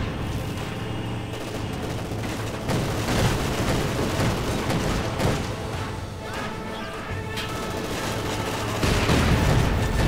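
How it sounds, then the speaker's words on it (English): Mortar half-track firing in Company of Heroes 2, dense rumbling battle with repeated booms and gunfire bursts layered over continuous combat noise, loud throughout. "More mortar rounds."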